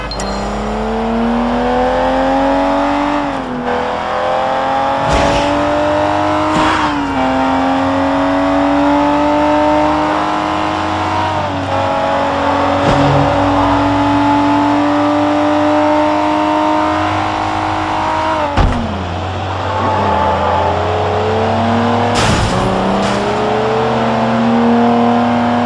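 A car's engine roars and revs steadily during a chase after a van in the video game Sleeping Dogs. The pitch climbs and drops with gear shifts, with brief sharp bursts, loud and close throughout.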